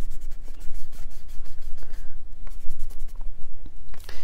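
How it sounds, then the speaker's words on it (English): A kneaded eraser rubs back and forth over marker lines on a drawing, making steady, close scratchy strokes in a quick repeating rhythm. "You want to take the kneaded eraser and erase those marks."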